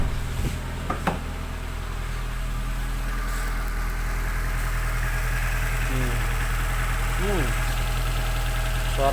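A 2004 Kia Picanto engine idles with a steady, even hum in an engine bay, heard at moderate level, with faint background sounds.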